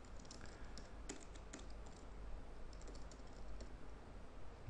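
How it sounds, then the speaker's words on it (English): Fast, light clicking of keys on a computer keyboard while a company name is entered into an autoresponder setup form, steady and faint, close by, with no speech. "So just type in my company's name."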